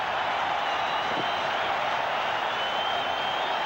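A rugby league stadium crowd at a 1985 State of Origin match roars after a try, a steady broad wash of cheering and noise held at even loudness throughout.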